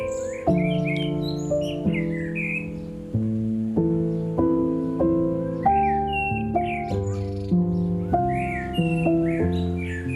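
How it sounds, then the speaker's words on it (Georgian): A blackbird sings in a garden, giving short bright warbling phrases in repeated bursts that sit above steady background music with sustained chords. "ნახეთ როგორ გაროლობს შაშვი"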